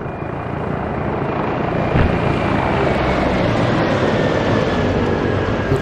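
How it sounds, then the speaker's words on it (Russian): Military helicopter in the video game Arma 3 flying past, a loud continuous rotor and engine roar holding steady throughout with a faint whine above it and no talking. "Вертушка над Алдами прошла, уходит на восток."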